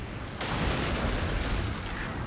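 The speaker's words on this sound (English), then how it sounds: "And there is my naval bombardment." Naval bombardment in the strategy game Total War: Shogun 2, a dense continuous roar of explosions and rumbling booms that swells after a short lead-in and holds loud throughout.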